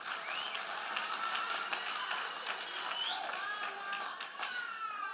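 A conference audience at a regional political gathering claps in sustained, dense applause, with crowd noise and voices mixed in throughout.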